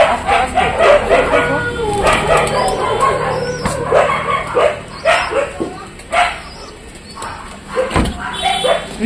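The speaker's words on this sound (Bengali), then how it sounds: "কুকুরগুলো এত চেঁচাচ্ছে" Several dogs bark loudly and repeatedly close by, a busy mix of deep woofs, sharp yips and whimpers, with faint bird calls in the background.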